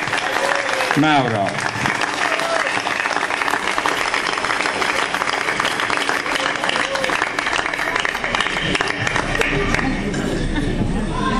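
Dense, sustained applause from a crowd at an outdoor election rally fills the whole stretch, with a voice over a loudspeaker and crowd chatter mixed in.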